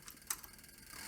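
A sewing machine back-stitching a leather clutch purse gives a short mechanical clatter with one sharp tick, close and fairly quiet, no voices.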